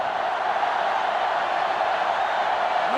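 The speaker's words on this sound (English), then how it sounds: "this crowd is going absolutely insane" Stadium crowd cheering in the NCAA Football 2005 video game during Michigan vs. Ohio State, a steady, even wash of distant roaring noise that holds without a break.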